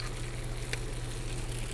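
Minced garlic going into a pan of frying sausages and peppers in an RV kitchen, with a steady, close sizzling hiss over a low hum and one brief sharper crackle.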